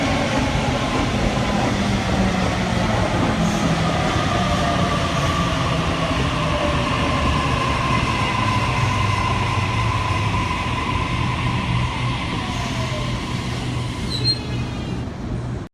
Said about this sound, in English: we have an A set arriving on the platform number 4